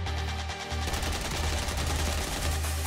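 Gunfire in Modern Warfare 3 on the Training Facility map, a steady stream of rapid shots repeating throughout against a constant low background hum.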